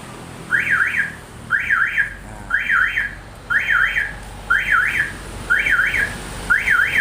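A Honda PCX 160 motorcycle anti-theft alarm siren wails in repeated rising-and-falling chirps, about seven regular cycles, loud and close with no talking.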